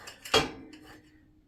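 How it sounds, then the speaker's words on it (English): A single sharp knife clack against a board while chopping hot dogs, with a brief clatter and a softer tap shortly after, close and otherwise quiet. "Let's go and chop these up."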